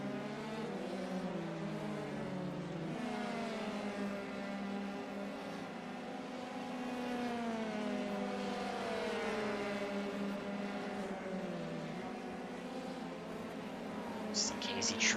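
Formula 3 race cars in a racing video game battle down a straightaway, engines droning and shifting pitch as they rev steadily, with a commentator talking over the continuous engine noise.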